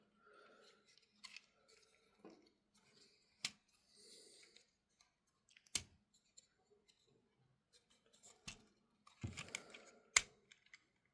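Plastic hinges and panels on a Transformers Studio Series 86 Voyager class Mixmaster figure clicking and snapping as they fold, scattered sharp close clicks amid soft handling rustle, with no talk.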